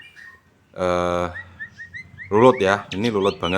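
A very tame songbird calls in response to a waved hand, giving a short burst of bright, clear notes, while someone speaks close by in between and over the calls.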